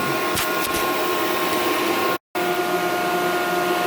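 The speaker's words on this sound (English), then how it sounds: "it is leaking a little bit right now around that fitting" Compressed air hisses steadily from a leaking fitting on a Vevor Cut-50P plasma cutter set near 4 bar, a continuous broadband rush with faint tonal hums that cuts out once briefly.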